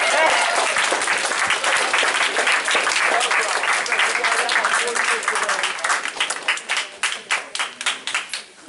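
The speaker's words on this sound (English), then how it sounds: "Can we give all the new students a round of applause and a warm welcome?" A school gathering applauds to welcome new students with a dense, steady round of clapping that thins out toward the end into a few separate, distinct claps.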